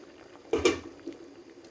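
Olives (jolpai) boil in a pot for jelly, a faint soft bubbling with one brief clattering knock near the start.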